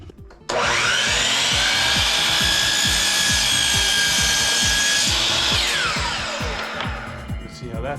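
Power saw recutting a bamboo stair piece at an angle: a loud, steady whine starts abruptly after a half-second, runs for about five seconds and trails off as the blade winds down, with a low rhythmic thumping beneath throughout.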